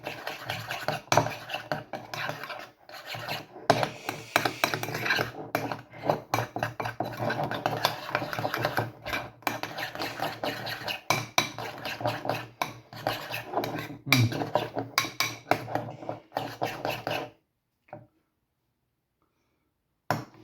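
Wrap ingredients for a chicken teriyaki wrap, with spice, are mixed in a dish, giving continuous scraping and clinking of a utensil against the bowl, busy and close, then it stops abruptly near the end.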